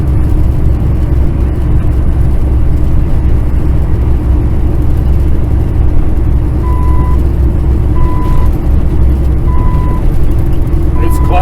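A truck drives steadily past a closed roadside scale house on a snowy Colorado highway, its engine drone and road rumble loud and constant from inside the cab, with a faint repeating beep late on.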